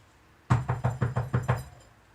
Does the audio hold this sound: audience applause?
no